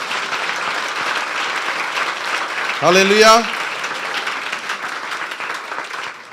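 A church congregation claps loudly and continuously for the glory of God, a dense sustained applause throughout with a single voice exclaiming briefly over it midway.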